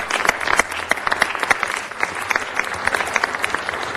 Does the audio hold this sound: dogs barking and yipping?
no